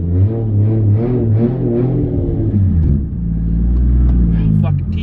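A Toyota Supra engine runs loud at first start-up with a barely-there muffler, a deep steady rumbling idle with slight revving swells, close and continuous throughout.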